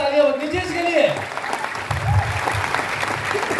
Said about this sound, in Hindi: जोरदार तालियां बजनी चाहिए इसके लिए